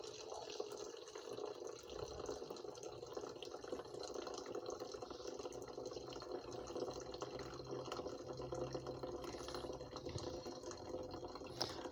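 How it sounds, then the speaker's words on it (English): Hot boiling coffee poured in a steady stream through a Costa Rican-style cloth filter, a continuous close trickle and splash of liquid running the whole time with no talking. "Just a nice steady pour."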